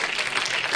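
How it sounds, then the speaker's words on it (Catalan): A short burst of crowd applause, steady clapping from many hands filling the whole moment. "També un fort aplaudiment per a Francesc."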